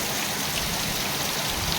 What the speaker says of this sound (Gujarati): તો આજે વરસાદ બહુ છે,